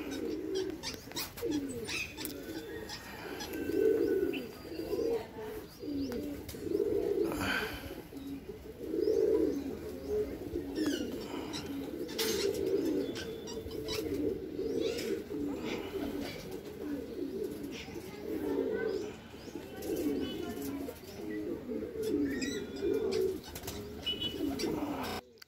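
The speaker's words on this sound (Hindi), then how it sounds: "बॉस कबूतर उड़ रहे हैं आज" Pigeons coo repeatedly in a low, throaty rhythm in the morning, with occasional chirps and faint rustling of flying birds, steady and close throughout.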